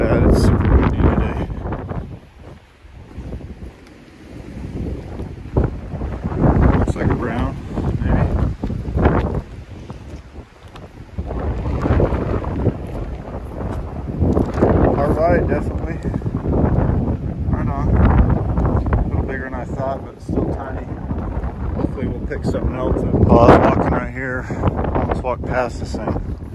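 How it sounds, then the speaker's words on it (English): Heavy wind buffeting the microphone outdoors in Arizona in rumbling, uneven gusts, loud and low, with a person talking intermittently beneath the roar. "Sorry about the wind. If the audio is bad,"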